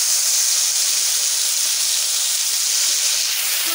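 A bay leaf, cumin seeds and ground spice paste hit hot oil, giving a loud, steady, close-up sizzle that hisses without break throughout.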